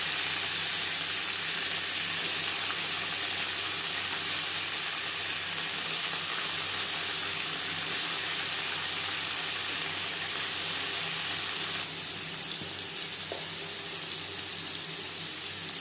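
Paneer lightly frying in a pan gives a steady, soft sizzle that carries on evenly throughout, with no talk.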